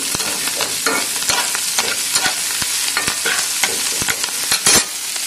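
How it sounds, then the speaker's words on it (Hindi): Onion stems fry in a hot pan for a pumpkin and onion stem lunch dish, giving a steady, loud sizzle broken by repeated sharp scraping stirs of a spatula throughout, with no voices. "यहाँ पे फ्राई हो रहा है ऑनियन स्टेम।"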